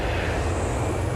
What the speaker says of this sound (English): To see a plane like this actually kind of makes you realize what we're all flying in when we're flying.